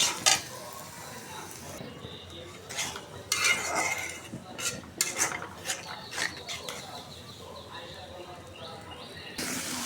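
Onions frying in a pan for a koi fish bhuna curry, with a metal spoon clanking and scraping against the pan in irregular bursts over a soft sizzle.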